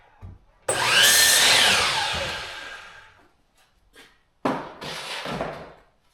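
A power saw cuts wood pieces for rabbit tractor brackets: a loud close whine that fades over about two seconds, then a shorter second cutting burst after a quiet pause.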